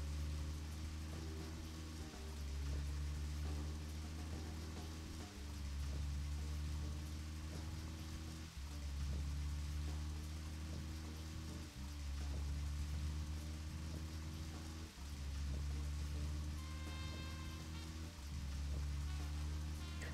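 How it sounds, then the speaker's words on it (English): Steady rain falls in the video game Deadly Premonition, a dense, continuous hiss with no talk, overlaid by a low looping musical drone that pulses every few seconds. "It don't help that this rain is acting as white noise."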